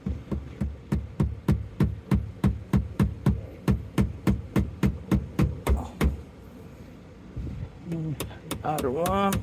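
Knocking a ZL1 rock guard into place on an A90 Supra Mk5: a rapid, even series of sharp, close knocks for about six seconds, then a pause with a voice speaking.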